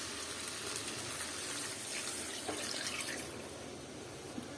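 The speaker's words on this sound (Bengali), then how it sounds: "আর এখন আমি পানি দিয়ে দিব" Water poured into a pan of deshi chicken roast as it cooks, giving a soft, steady splashing hiss throughout with no talking.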